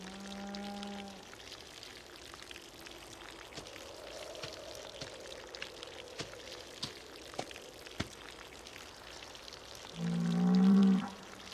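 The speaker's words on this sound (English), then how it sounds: "It's actually letting me add all this water from the small metal trough." Water poured from a small metal trough in a survival video game, a soft, continuous, faint gurgling pour running through most of the stretch, with brief tonal game chimes at the start and end.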